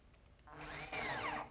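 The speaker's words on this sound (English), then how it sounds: "I'm going to have to drill a counterbore" A power drill bores a counterbore into wood, its motor whining up to a steady high pitch and growing louder partway through, with no voices.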